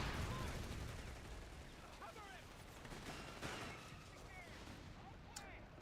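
M1919 machine guns rattle in a Company of Heroes 3 battle, heard as fairly faint, crackling bursts amid a dense wash of battlefield gunfire and explosions.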